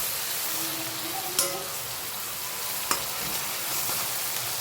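Garlic and green chili sizzle and crackle steadily in a hot pan over a high flame, a soft continuous hiss broken by two sharp utensil clicks.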